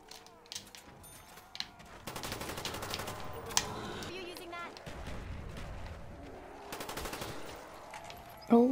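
A Death Machine minigun fires in Call of Duty: Black Ops zombies on the Call of the Dead map. It comes in rapid, sustained automatic bursts at moderate loudness, broken by short pauses, with a player's voice talking over the game sound.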